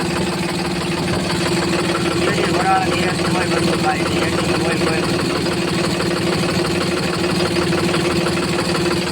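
A Mahindra B 295 tractor's diesel engine idles steadily with a low, rumbling knock, close by, while people talk over it.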